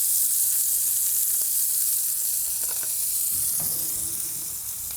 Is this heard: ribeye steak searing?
yes